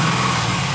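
A Trans Am WS6 with an LS V8 idles steadily after a cold start, a smooth, quiet, even hum with no knocking, heard briefly and alone.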